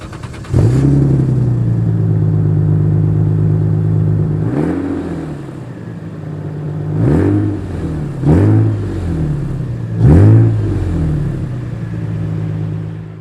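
A big Lexus engine revving repeatedly, a deep steady idle broken by four sharp throttle blips that rise and fall back, loud and close with no talking.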